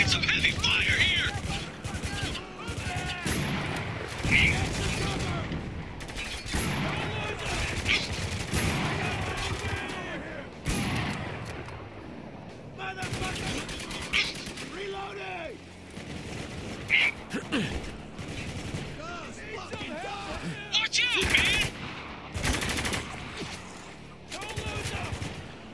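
Heavy gunfire rattles in the Spec Ops: The Line video game: dense overlapping rifle and machine-gun bursts with occasional booms, close and loud, while soldiers shout over the fighting.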